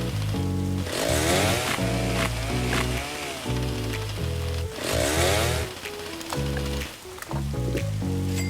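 A chainsaw cuts wood in a survival video game. The loud engine revs up and down in repeated rhythmic strokes, with gritty buzzing through the whole stretch.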